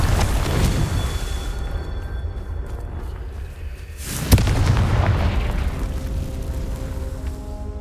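A Confringo blasting spell goes off in Hogwarts Legacy, heard as a sharp burst midway followed by a booming rumble, set against a steady low roar from the game's surroundings.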